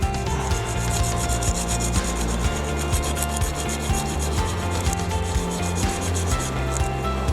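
A motorcycle engine is sanded by hand with 120 grit sandpaper, producing a steady, close, continuous rasping rub with quick back-and-forth strokes and no talking.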